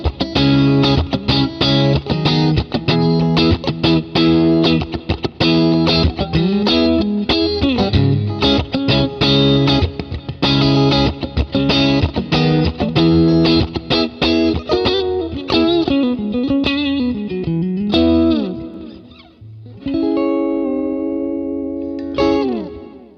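Clean electric guitar through a Deluxe Reverb amp capture with the cab built in, played on the neck pickup with a mid-heavy tone, strummed chords and melodic lines ringing continuously and loudly with no voices.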